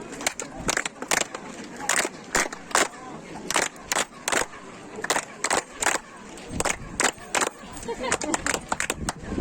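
Claps echoing off the stone stairs of the Kukulcan pyramid at Chichen Itza, a series of sharp repeated bursts with chirping echoes in an open outdoor crowd setting, people murmuring beneath.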